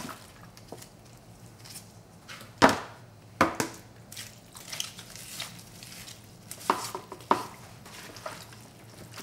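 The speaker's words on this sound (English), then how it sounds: "I'm going to mix this all together." Green onions being mixed by hand into a hot pepper flake paste for kimchi, giving soft wet squishing and several sharper slaps and clatters at irregular intervals, close and fairly quiet.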